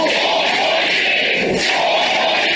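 A dense crowd at a political rally claps and chants in unison, a steady broadband roar of many voices and hands, loud and continuous throughout.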